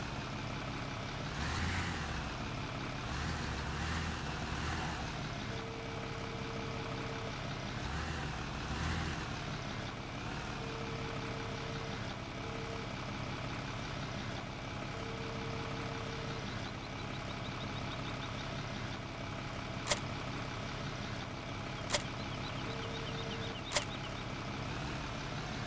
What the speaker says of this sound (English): Brilliant tractor this.